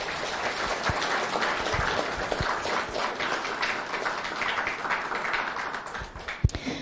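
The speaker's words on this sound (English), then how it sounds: "So please join me with a round of applause to give thanks to Deb." A round of applause from an audience at a live-streamed Stamps of Hope evening session, steady clapping that holds at an even level and thins slightly near the end.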